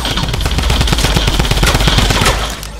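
A drum gun in a video game fires a loud, rapid, sustained burst of automatic shots, an unbroken rattling stream that cuts off near the end.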